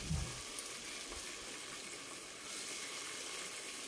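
Cumin, mustard seeds, bay leaf, cinnamon, star anise, cloves, peppercorns and peanuts sizzle in hot oil for soybean pulao, a soft, steady hiss with a couple of faint pops near the start.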